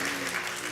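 A church congregation claps in a brief, full burst of steady applause with a faint tone beneath it.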